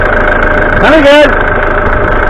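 A 1989 Ford Fiesta Ghia engine, stood unused for years, running roughly near idle with a brief rev rising and falling midway, close and loud.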